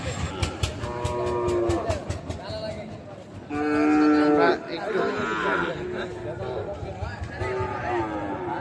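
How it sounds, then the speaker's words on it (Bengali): Cattle at a rural cattle market moo loudly several times, long lowing calls near and far amid the crowd's chatter and people bargaining. "দুটো গরু"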